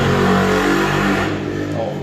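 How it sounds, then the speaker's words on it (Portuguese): A motorcycle engine runs close by, a steady mid-pitched drone and revving that holds, then eases off as the bike moves away toward the end. "O moço passou de moto"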